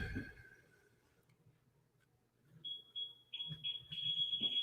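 A smoke alarm sounds a series of loud, high electronic beeps that start partway through and repeat in short and longer bursts over a low background rumble, after a brief thump at the start.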